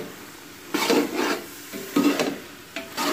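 Carrot halwa with almonds and pistachios is stirred and roasted in a pan over medium flame, giving several distinct scraping strokes of a spoon across the pan, close and fairly loud, with brief quiet gaps between them.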